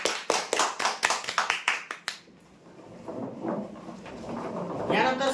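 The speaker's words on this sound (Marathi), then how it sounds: "जोरदार टाळ्या होऊ द्या" Applause for a prize draw winner of an office plywood cupboard: a burst of brisk, loud clapping for about two seconds that cuts off abruptly, followed by a murmuring crowd and faint rustle.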